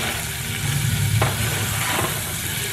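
Food sizzles and fries steadily in a hot pan while silicone tongs stir and toss it, with a couple of soft scraping clicks over the constant loud crackle.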